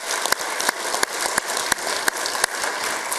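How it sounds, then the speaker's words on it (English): Dense, steady clapping from a crowd at a design and environmental achievement awards ceremony fills the whole stretch, with a few sharper claps standing out at regular intervals. "Let's give him a round of applause."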